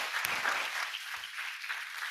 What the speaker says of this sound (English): please join me in giving this panel a huge round of applause